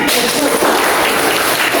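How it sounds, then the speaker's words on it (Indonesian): Dense applause from a class of students, a steady wash of clapping throughout. "Tepuk tangan."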